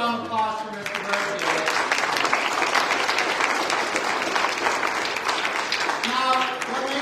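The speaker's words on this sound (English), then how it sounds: "Let's give a round of applause for Mr. Byrd." A gathered audience gives a warm round of applause for Mr. Robert Byrd, dense, steady clapping for about seven seconds with a speaking voice at either end.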